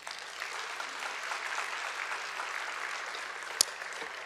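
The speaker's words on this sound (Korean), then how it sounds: "우리 목사님 나오실 때 박수로 환영하겠습니다." A Korean congregation at a Wednesday evening service applauds to welcome a visiting pastor, a sustained, moderately distant patter of clapping with one sharp knock near the end.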